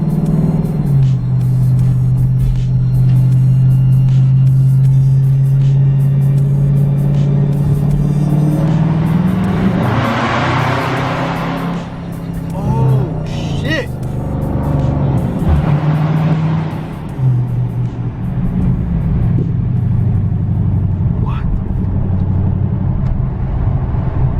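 A 2019 Dodge Charger Scat Pack with straight-piped exhaust, catless mids and mid muffler delete, its engine rumbling loudly and accelerating with rising roaring surges, heard near and powerful throughout.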